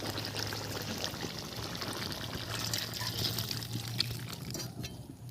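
Oil poured into a hot kadai (wok) while cooking a vegetarian potato and pumpkin curry, a steady close liquid pour with soft trickling that runs continuously for several seconds with a low hum underneath.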